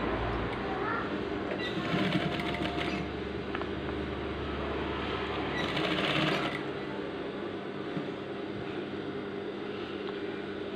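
An electric sewing machine stitches along a uniform shirt collar in a close, continuous whirring drone that rises in brief louder bursts, with faint talk in the background.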